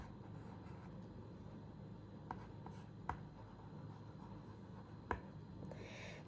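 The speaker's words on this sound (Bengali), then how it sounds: "যেমন এখানে আমি লিখছি, আমি আমার চ্যানেলের নামটাই লিখছি।" Quiet scratching strokes of a stylus on a children's writing board gadget, a soft continuous rubbing punctuated by a few small taps, close and faint with no talk.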